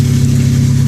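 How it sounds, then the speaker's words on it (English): A bagged 1994 Toyota truck runs with its engine and exhaust droning, a loud, steady low rumble close by for a brief moment, with no talk. "Exhaust is running, so it's a little bit harder to hear."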